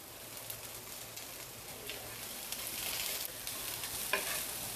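Chopped onion and finely cut cabbage sautéing in a pan, a steady soft sizzle with light stirring scrapes throughout, fairly quiet and close, with no talking.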